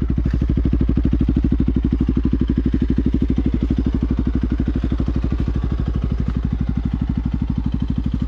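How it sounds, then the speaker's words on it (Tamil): Bajaj NS200 motorcycle with an Akrapovic exhaust idling close by, a loud, steady, rapid pulsing thump that stays even throughout with no talk over it. "இதுதான் கைஸ் பைக்கோட ஐடியல் எக்ஸாஸ்ட் நோட்டு."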